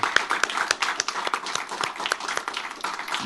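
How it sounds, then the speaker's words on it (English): An audience claps at a live comedy festival casting panel, a moderate spread of individual hand claps rattling steadily at mid distance, with no talk over it. "Please give them a round of applause"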